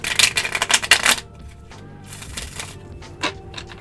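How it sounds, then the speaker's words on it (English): Reading cards shuffled by hand, a rapid riffling flurry for about a second followed by softer rustles and a couple of light taps, close and clear with no voice over it. "I think I'm sufficiently shuffled again."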